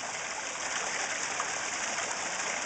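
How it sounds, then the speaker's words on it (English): A backyard pond waterfall with a circulating pump splashes in a steady, even rush of falling water, moderately close and without any talking. "But there's this waterfall."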